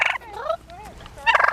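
Turkeys at a zoo in Lincoln Park, Manitowoc, Wisconsin, gobbling in short loud rattling bursts, one call at the start and another near the end, close by with no talk.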